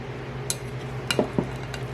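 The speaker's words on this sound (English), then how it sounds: "Let's stir that around and see how that works out." A spoon clinks a few times against the inside of a partly filled glass jar, light scattered taps over a low steady background hum, close and fairly quiet.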